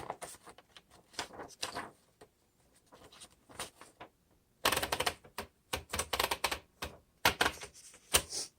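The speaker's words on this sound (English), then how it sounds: "Let's go ahead and type on this and see how it does." Keys clack on a 1958 Royal Futura 800 manual typewriter in irregular bursts, close and crisp, with a short pause near the middle before a faster, louder run of strikes and carriage clicks.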